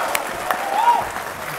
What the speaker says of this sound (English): And the crowd just erupts there